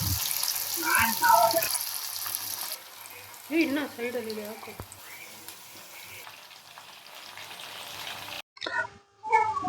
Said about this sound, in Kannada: ಬಿಸಿ ಬಿಸಿ ಎಣ್ಣೆಲಿ ಕಬಾಬ್ನ ನೆನೆಸಿರೋಂಥ ಕಬಾಬ್ನ ಫ್ರೈ ಮಾಡೋದು